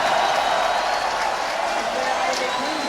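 Crowd at a skateboarding contest, an SLS street league knockout round in Chicago, sending up a steady broad roar of cheering and noise that holds at an even level throughout, with a voice speaking faintly over it.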